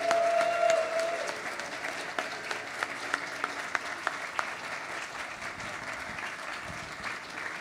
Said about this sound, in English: One more round of applause for all the amazing finalists this year.